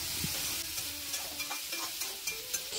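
Two chopped tomatoes frying in a pan for sambar, a soft steady sizzle with light stirring scrapes and small pops, heard alone.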